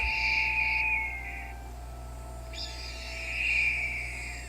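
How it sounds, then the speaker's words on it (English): Red-tailed hawk call in the Nancy Drew game Ghost Dogs of Moon Lake: two long, drawn-out, high screeching cries, the second starting abruptly, over a constant low background hum. "Red-tailed hawk."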